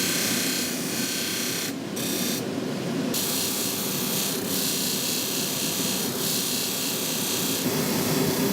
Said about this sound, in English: After the main body is shaped, we polish it roughly.